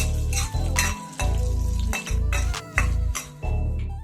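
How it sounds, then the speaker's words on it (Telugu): Garlic cloves, cumin, mustard seeds and chana dal fry in a pan of oil, a steady loud sizzle broken by repeated clinks and scrapes of a utensil stirring against the metal. "4 వెల్లుల్లి రెబ్బలు, 1/2 స్పూన్ జీలకర్ర, ఆవాలు, 1 స్పూన్ పచ్చిశనగపప్పు వేసి క్రంచీగా వేయించుకోండి."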